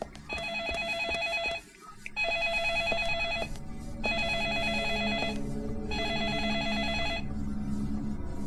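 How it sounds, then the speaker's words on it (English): A telephone rings in the video game Deadly Premonition, four evenly spaced electronic trill bursts over a low steady background hum, clear and prominent. "Another phone call"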